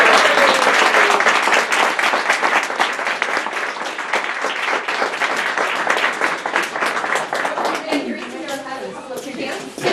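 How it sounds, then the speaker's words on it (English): Audience applause at a social justice awards event: a sustained burst of loud clapping from a room of people that thins out toward the end, with some voices mixed in. "round of applause for today"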